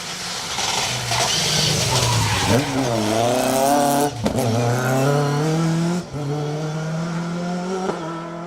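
A 2.5-litre Mark II Escort rally car races flat out on a rally stage, its engine wailing in rising, repeated revs through gear changes, with brief tyre scrabble, loud and close.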